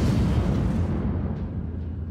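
Heavy booming blasts roll out loud and low, a rumbling explosion in an Apex Legends Season 15 game trailer that slowly fades over a couple of seconds.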